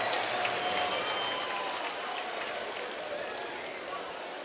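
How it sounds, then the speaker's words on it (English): Baseball crowd at a Rangers–Orioles game reacting to a strikeout for the second out, a steady wash of distant applause and stadium murmur with a broadcaster's voice over it. "Fans applauding an out."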